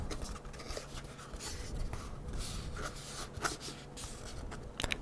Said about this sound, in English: scratching,